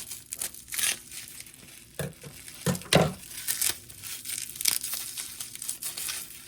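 A gift package being cut and torn open: crisp crinkling and ripping of paper and plastic wrap in short close bursts, with sharper tearing strokes around the middle and no talking.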